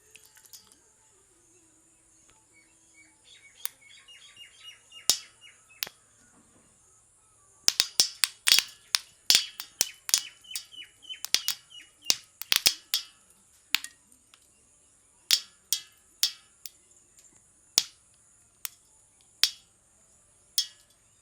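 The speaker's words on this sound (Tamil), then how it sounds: "சூப்பராக பட்டாசு காய் வெடிக்கிறத பார்த்தீங்களா எவ்வளோ அழகாக வெடிச்சது பாருங்க" Dry Ruellia tuberosa seed pods bursting open one after another, sharp snapping cracks scattered irregularly and in quick clusters over quiet background, some close and crisp, others fainter.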